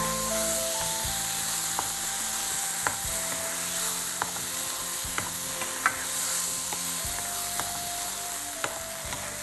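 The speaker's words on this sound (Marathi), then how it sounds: "डाळ आणि भाज्यांचं हे जे मिश्रण आहे ते मसाल्यासोबत परतून घ्यायचं आहे" A lentil and vegetable mixture sautés with spices in a pan for dhansak, giving a steady sizzle broken by sharp clinks and scrapes of a spoon against the pan.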